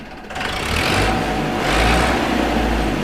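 A tractor engine, a 2011 model, starts and is revved, its throaty mid-pitched roar swelling twice over a steady idle, close by and loud with no talking.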